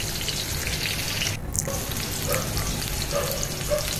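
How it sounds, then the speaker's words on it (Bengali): Eggplant frying in a pan makes a constant close crackling sizzle, with occasional stirring sounds and no talking. "তো বেগুন মোটামুটি ভাজা হয়ে এসেছে"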